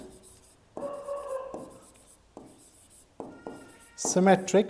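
Pen writing on paper while working a Class 12 CBSE mathematics paper: scratchy strokes in short bursts with pauses, near and moderately loud, with a voice speaking over the end.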